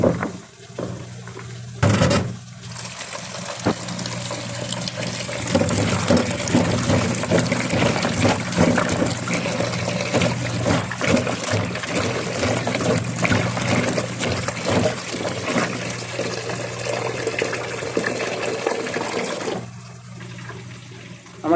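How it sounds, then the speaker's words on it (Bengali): Okra washed under a running kitchen tap, a loud continuous gush of water for most of the stretch, with a brief handling clatter near the start and the flow cutting off at the end. "আগে ধুয়ে নিই।"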